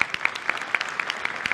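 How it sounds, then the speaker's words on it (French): Audience claps after a conference talk on delegating HR decisions to AI, giving sharp, spaced claps in a brief, thin burst that sounds like only a few hands at once. "On peut vous applaudir déjà."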